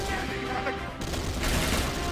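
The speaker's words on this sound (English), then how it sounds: "basically you just keep shooting till the ambush is over" Sustained gunfire from C&C Renegade crackles loudly throughout an ambush, a continuous fusillade of rapid shots with a brief dip partway before the volley resumes.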